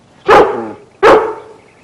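Two loud, close dog barks about 0.75 seconds apart, each a sharp burst that tails off, with no other sound between them.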